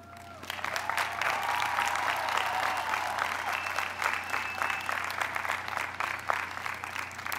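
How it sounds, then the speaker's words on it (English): A crowd applauds high school graduates at a 2021 graduation ceremony, building quickly into sustained, dense clapping with occasional sharp claps standing out, a low steady hum running underneath. "Applause."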